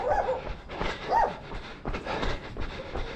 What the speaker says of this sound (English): Some puppy dogs up here.